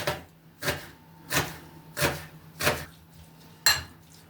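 A knife finely chops onion on a board in six sharp, evenly spaced knocks about half a second apart, close and clear with quiet between strikes.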